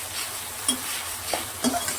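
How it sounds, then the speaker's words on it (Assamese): Ground spice paste fries in hot oil with a close, constant sizzle, broken by a few sharp scraping stirs of a spoon in the pan. "পিচি ৰখা মছলাটো তেলত দি কেনে ভালকৈ ভাজি লম"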